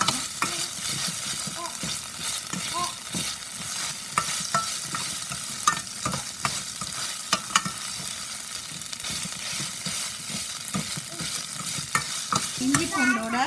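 Onions sautéing in a pan with ginger garlic paste for Chennai-style vada curry, a steady close sizzle with repeated spoon-scraping stir strokes throughout, no talking.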